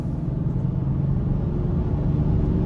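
Cabin rumble from a 2023 Land Rover Defender 130 SE with an inline-six engine on the move, a steady low road and engine drone with no talking.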